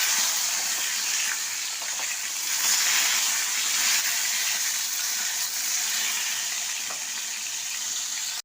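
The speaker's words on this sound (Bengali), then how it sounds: "রুই মাছটাকে আগে ধুয়ে নুন হলুদ মাখিয়েছি, ভালো করে ভেজে নিচ্ছি" Rohu fish, washed and rubbed with salt and turmeric, sizzles in hot oil with a steady, bright, unbroken hiss that holds at the same loudness throughout and then stops abruptly.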